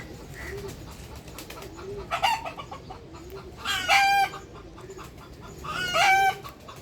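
A hen on a rooftop garden clucks in loud, repeated cackling bursts, spaced a couple of seconds apart, with softer pigeon coos running between them.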